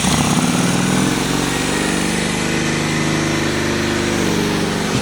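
Cold motorcycle engine, unstarted for ten years, running on choke: a loud, close, steady engine drone with a rough, pulsing low rumble and no talk.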